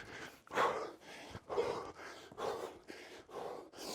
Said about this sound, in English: And you can hear, listen to my breathing. It's hellish.